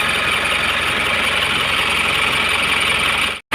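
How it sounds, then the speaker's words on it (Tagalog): An Isuzu 4HL1 diesel engine, rebuilt with new liners, piston rings, conrod bearings and piston pin bushings, idles loudly and steadily up close before cutting off abruptly at the end. "umandar na po yung ating dinukot na 4HL1 na galing po sa overhead"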